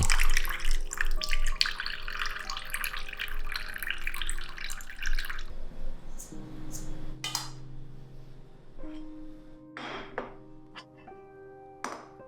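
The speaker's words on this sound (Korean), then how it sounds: "솥의 크기에 맞춰 쌀을 가져와 깨끗하게 씻은 후 물기를 빼줄 겸 잠시 체에 받쳐놓고" Rice for a pot rice dish is washed under a running tap, first as a gushing splash, then as water swirling and dripping, with scattered clinks and drops.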